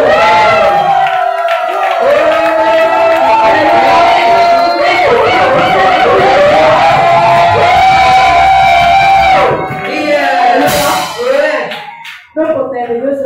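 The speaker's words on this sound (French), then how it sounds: "Qui dit acclamation dit cri de joie." A church congregation lets out loud, sustained shouts and cries of joy during praise, many voices overlapping in a dense, ringing crowd roar that holds steady and then breaks up near the end.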